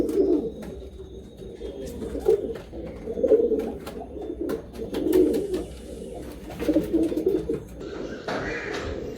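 Pure red-headed Andhra pigeons with black beaks and nails coo in low, throaty, overlapping phrases that repeat steadily at close range, with faint background noise and a brief stir near the end.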